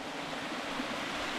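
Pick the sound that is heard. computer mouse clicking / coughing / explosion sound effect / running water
running water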